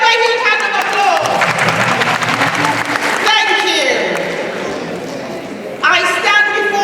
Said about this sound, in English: give them a huge hand of applause.